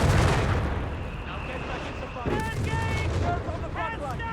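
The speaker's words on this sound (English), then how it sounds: "Got heavy fire there being unleashed." Heavy gunfire and artillery rumble through a Company of Heroes 3 match, dense low booms and crackling shots filling the mix, with broadband blasts around the middle and a voice talking over the battle.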